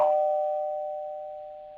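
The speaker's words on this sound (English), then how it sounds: "Somebody else just came in the room and they ringing my doorbell." A single electronic doorbell chime rings out clearly with a sustained tone, decaying gradually with nothing else heard.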